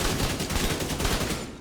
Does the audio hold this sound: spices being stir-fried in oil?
no